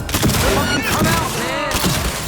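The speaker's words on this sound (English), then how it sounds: "Using a shotgun!" Shotgun blasts in the video game Cyberpunk 2077: Phantom Liberty, heard as a loud, rapid cluster of booming shots in a firefight.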